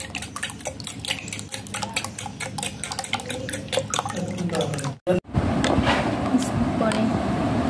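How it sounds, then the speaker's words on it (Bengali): Eggs and sugar are beaten together in a bowl for a Bengali dessert, giving a fast, steady scraping and tapping whisking rhythm that briefly stops, then resumes with a denser, louder churning sound. "এই তো ডিমগুলো ফেটানো হয়েছে। এখন হচ্ছে আবারও ফেটে নিচ্ছি।"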